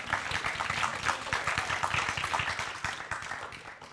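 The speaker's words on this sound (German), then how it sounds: "bitte Applaus." Audience applause at a German talk event, a dense steady burst of many hands clapping close by for several seconds, fading slightly toward the end with no speech over it.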